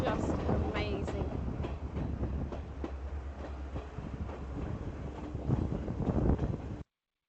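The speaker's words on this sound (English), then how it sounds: "This is the blue train from Kandy to Ella, and the views from here are just amazing." The blue train from Kandy to Ella in Sri Lanka runs on its rails with a steady, rushing rumble and faint rhythmic clatter from the wheels. Wind buffets the microphone throughout, and the sound stays loud and close until it cuts off abruptly.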